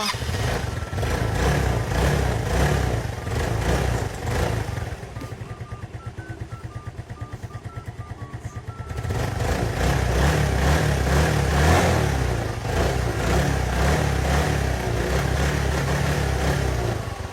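A long-stored motorcycle's engine, just restarted, roars steadily, dips to a lower idle for a few seconds, then revs back up and keeps running loudly.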